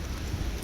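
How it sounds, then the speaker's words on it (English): Rain falls outdoors as a steady, broad hiss, soft and constant throughout the brief stretch. There is no speech. "Oh, it is raining out here."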